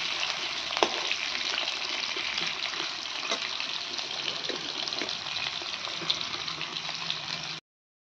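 Potatoes fry in hot oil with a steady, dense, close sizzle and occasional small pops, continuing unbroken until it cuts off abruptly.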